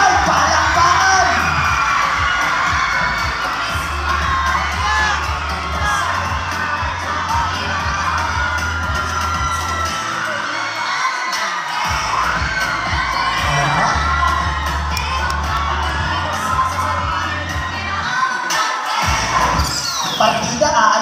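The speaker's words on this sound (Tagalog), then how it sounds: "May sigawan. May palakpakan." Children on a field trip in Zambales shouting, cheering and whooping loudly in a crowd, continuous and energetic with clapping mixed into the din.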